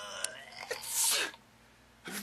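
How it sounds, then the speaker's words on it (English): A single sneeze close by, building with a sharp breathy burst and trailing off, followed by a short noise at the end. "Who's having a sneezing fit?"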